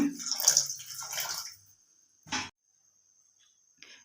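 Water splashes into a cooking pot for raw jackfruit curry with salt and turmeric, an uneven close pour that fades out, followed by one short splash and a faint final drip in near silence.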